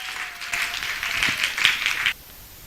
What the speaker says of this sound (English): can you give Reim an amazing, energy-busting applause